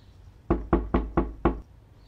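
Five firm knocks on a door in a quick, steady rhythm, close and clear against a quiet background, with no talking.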